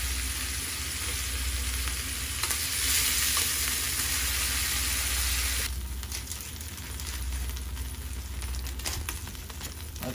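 Scallops pan-fry with a dense, steady sizzle, swelling louder midway and then settling to a crackling spatter; close and continuous, with nobody speaking.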